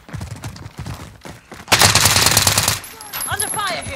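Warzone video game gunfire: a loud, rapid burst of automatic fire lasting about a second, followed by fainter pops and whizzing sounds, with someone speaking briefly before the burst.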